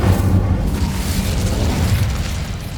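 A fire spell cast in the video game Hogwarts Legacy, heard as a loud, dense, low rumbling burst that roars steadily for a few seconds with no voices over it.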